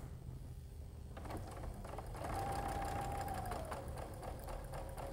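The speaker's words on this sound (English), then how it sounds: "Go back to the sewing machine one last time with this piece." A sewing machine stitches a quilt piece slowly, a close, soft, rapid mechanical ticking and whirr that starts after a quiet moment and runs steadily to the end.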